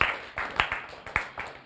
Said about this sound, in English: Kindly, let's clap for them as they come.